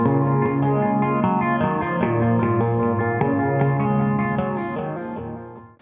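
Electric guitar played through an analog MN3007 Chorus Ensemble pedal, sustained chords shimmering and wavering, loud and close, fading out at the end.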